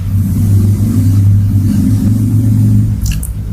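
A DC motor runs at full 100% PWM speed, giving a steady, loud, continuous hum with a constant low drone throughout and a brief faint high chirp near the end.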